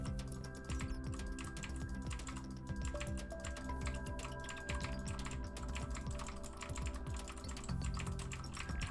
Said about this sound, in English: Ah, the satisfaction of a clicking mechanical keyboard.